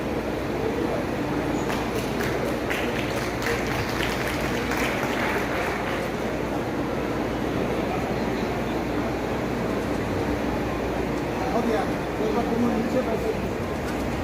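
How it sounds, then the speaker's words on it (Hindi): Audience applause at a university function in Barh welcoming the vice-chancellor of Patliputra University, a dense steady wash of clapping from a large crowd that continues for the whole stretch with voices mixed in. "पर आपकी तालियां चाहिए साहब इस अवसर पर। एक बार जोरदार ताली।"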